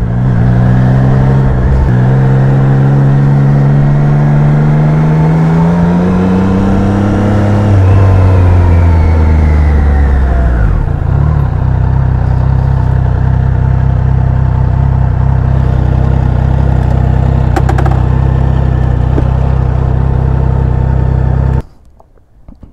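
Triumph Trident 660 three-cylinder motorcycle engine revving up and down loudly and close, with several rising and falling sweeps, then a steady high idle before it cuts out abruptly.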